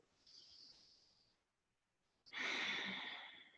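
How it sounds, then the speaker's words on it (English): Slow, deliberate breaths during a calm yoga class: a soft, airy inhale fades into a brief pause, then a fuller, louder exhale rushes out close by, without speech. "Intentional inhale and exhale of gratitude."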